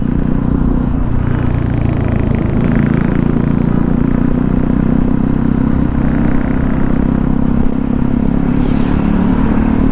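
A lowered Bajaj Pulsar NS200 motorcycle rides along a road, its engine droning steadily and loud with constant wind and road noise throughout.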